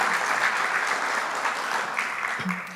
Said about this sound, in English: Will you join me in a round of applause for city staff?